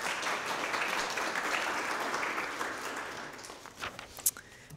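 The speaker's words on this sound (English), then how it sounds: "please join me in a round of applause for Dr." Audience applause in a hall for a guest speaker at a transportation discussion event, a broad steady patter of many hands that thins out and fades near the end, with a few isolated claps.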